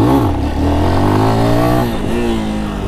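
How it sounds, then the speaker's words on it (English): A Lifan X-Pect 197cc enduro motorcycle engine revs up loud and close, its tone climbing and then easing back before rising again. "197cc Enduro motorcycle right here."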